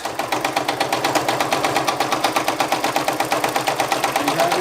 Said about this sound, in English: pop it back into the machine, and it's going to put 2 final stitches on this for us